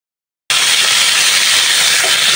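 Steady, loud frying hiss of dried fish in a pan, starting abruptly after a brief silence and continuing as an even, bright sizzle throughout.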